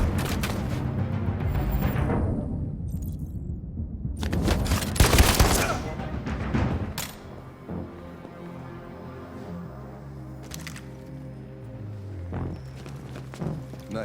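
Gunshots in the game Detroit: Become Human ring out as a loud cluster of cracks early on, then fade into quieter ambient tones and a few faint later hits.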